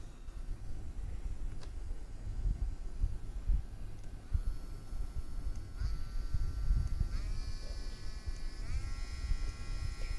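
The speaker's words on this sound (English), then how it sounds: "So let me show you how it sounds when you turn it on." A Bluetop cordless electric nail drill runs at a higher speed setting, a steady thin whine that steps up in pitch a few times, heard close over a low rumbling background.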